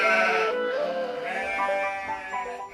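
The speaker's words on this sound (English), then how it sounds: "Every morning, Peter came to the village to get the goats." Goats bleating in an audiobook sound effect, a few overlapping wavering calls that carry steadily through the clip with no talk over them.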